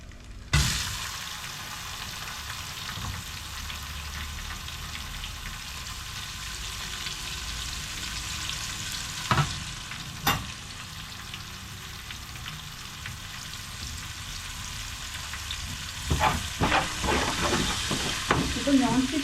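Chopped onion dropped into hot oil sizzles loudly and steadily, with occasional sharp clacks of a spoon stirring it alongside garlic paste, and busier scraping toward the end.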